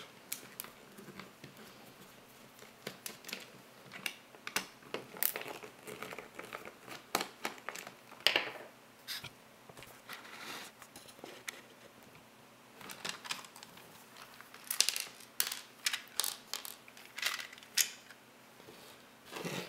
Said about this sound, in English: with a small Phillips screwdriver, remove all 5 screws